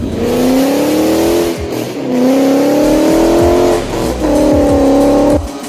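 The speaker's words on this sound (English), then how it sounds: "Galloping sound fades to roar of V8 engine." A powerful V8 engine roars close by, revving up in three strong surges with brief dips between them.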